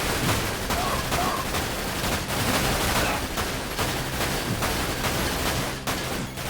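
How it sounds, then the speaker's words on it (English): Sustained gunfire in the Dirge of Cerberus: Final Fantasy VII video game, aimed at a bridge, rattles as a dense, continuous fusillade of rapid shots over a constant noisy backdrop. "They're shooting the bridge."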